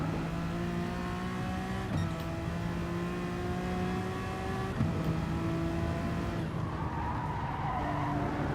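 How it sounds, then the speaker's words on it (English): Car tyres squeal steadily while cornering in the racing game GT Sport, a sustained whine layered over a droning engine note that shifts pitch a few times, with no talking. "I used to use the tyre noise for learning how to look after my tyres in the corner."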